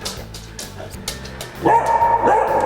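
An aging dog barks indoors in a few quick woofs, followed by a higher whimpering yip, close and fairly loud.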